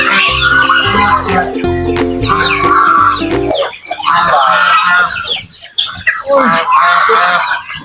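Geese honking loudly and close among native chickens and ducks at feeding time, repeated overlapping honks and clucks with a busy, crowded flock sound.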